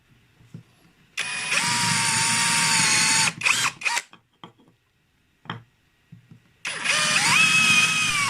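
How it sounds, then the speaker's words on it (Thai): A power drill with a reshaped broken drill bit whines loudly in a sustained burst as it bores into wood, followed by a few clicks and knocks, then a second drilling run. "ผมเจาะไม้กินเนื้อไม้ได้ดีทีเดียวนะครับ"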